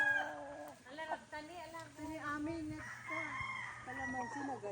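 On a farm in the Philippines, a rooster crows repeatedly with rising, drawn-out calls, fairly faint and mixed with people talking nearby and other fowl sounds in the background.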